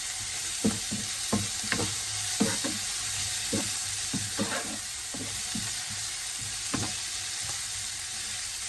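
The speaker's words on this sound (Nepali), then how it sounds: "अब यसलाई मजाले भुट्ने" Cauliflower and buffalo meat curry with turmeric and chilli powder frying in a pan, a steady loud sizzle with repeated clacking stirring strokes scattered throughout, no voices.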